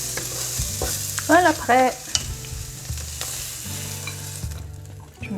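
Vegetables for bibimbap, seasoned with pepper, are sautéed and stirred in a pan, giving a close, steady sizzle with scraping stir sounds while a person speaks briefly.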